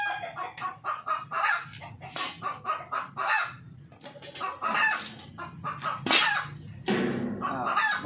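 A neighbour's hen clucks repeatedly after laying an egg, a busy run of close, fairly loud bursts of fowl calls with no talk over them.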